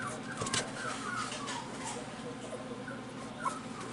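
Four-week-old Cockapoo puppies on a family farm whimper faintly, with soft, high, cooing whines scattered through a quiet indoor background.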